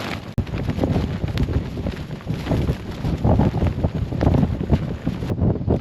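A storm wind buffets a wild-camping tent on a cold, dark night, and the loose door, unpegged on rocky ground, flaps hard and repeatedly in a constant, loud, rough roar of gusts close to the microphone.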